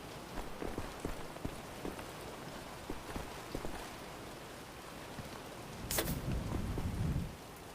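Rain pattering steadily indoors, inside a toilet area in the video game Wolfenstein, a dense hiss of drops with scattered louder ticks and a brief rumbling swell near the end, no talk over it.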